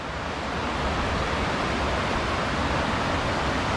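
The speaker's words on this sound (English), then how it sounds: "That's the Barrow River cutting through the whole place, making it into a V-shaped valley" Steady broadband rushing of the Barrow River flowing through a V-shaped valley in the Irish midlands, a loud, even wash of water that holds constant with no voices.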